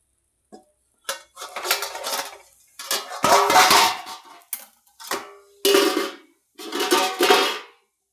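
Plate set down as a lid over a cooking pan with coriander powder, giving several separate clattering ceramic-on-metal clinks and scrapes in bursts, close and fairly loud, with no talking.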